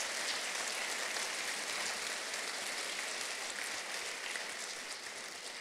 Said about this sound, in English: Would you give them a round of applause as well?